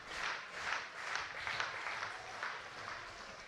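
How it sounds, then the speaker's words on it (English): Crowd at a baseball game clapping and cheering for the pitcher during a 3-2 count, a distant, steady wash of applause with rhythmic clapping swelling slightly. "Fans trying to cheer on Boone here."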